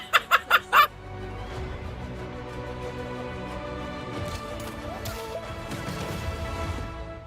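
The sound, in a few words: chicken being punted and clucking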